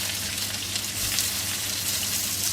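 Chinese sausage, shallots and garlic stir-frying over high heat, a dense, even sizzle with soft crackling that stays constant and fairly quiet throughout.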